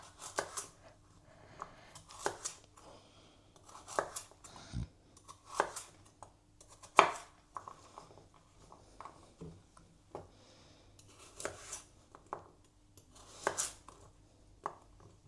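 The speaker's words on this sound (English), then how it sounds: "Cut your carrot into chunks, just like that." A knife chops a carrot into chunks on a cutting board for a beef bourguignon, giving sparse, close, separate thunks and scrapes with pauses between cuts and quiet in between.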